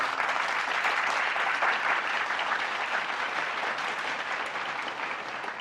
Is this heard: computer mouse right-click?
no